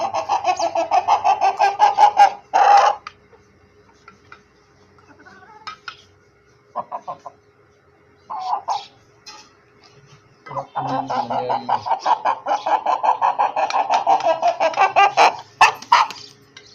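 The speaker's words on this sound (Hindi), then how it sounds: "ये देखो, ये हमारा चूचा है।" Bursts of rapid clucking and squawking from roosters and chickens, close by, in repeated runs with short pauses between.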